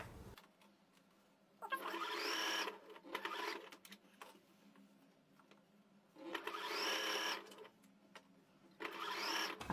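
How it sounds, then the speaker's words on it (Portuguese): A sewing machine stitches a bath towel into a panda hooded towel, running in three separate loud mechanical bursts with quiet handling pauses between them, close by and without talk. "E vai só encaixando aqui a toalha e costurando."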